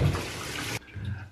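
An item is held under a strongly running tap, giving a loud, full rush of water that cuts off abruptly partway through, leaving a quieter dripping room.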